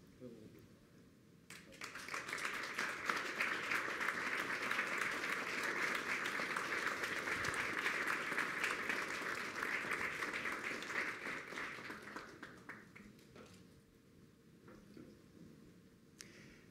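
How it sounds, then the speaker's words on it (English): Audience applause for the people on stage at an incubator opening event, a dense roar of clapping that swells in, holds steady for about ten seconds and then tapers off. "one more round of applause for all the people on stage"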